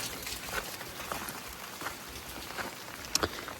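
Heavy rain patters steadily across the whole clip with scattered drips and a couple of sharper drops near the end, nobody speaking.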